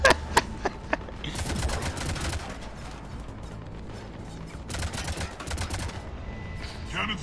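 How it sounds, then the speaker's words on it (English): Cannons fire in the game Mass Effect 3 in rapid bursts of sharp repeated blasts, with metallic mechanical clatter and the din of battle between the volleys. "Cannons engaging."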